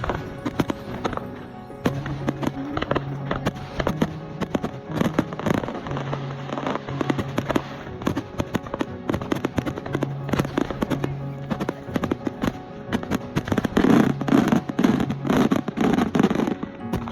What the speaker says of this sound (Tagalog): Ito nga palang 69th Torre de Tonegawa Fireworks Festival.